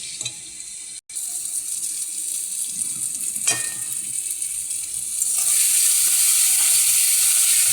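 Prawns and raw jackfruit saute in a pan, giving a continuous close sizzle with a brief cut near the start, one sharp clink midway, and a louder, brighter hiss toward the end.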